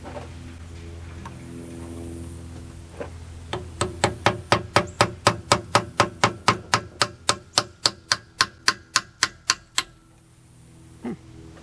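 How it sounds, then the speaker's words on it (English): A brass retaining ring inside a hydraulic cylinder is tapped gently, about twenty sharp metallic ticks in a steady, slowly spaced series, close and clear against a quiet background. "gently tap on that."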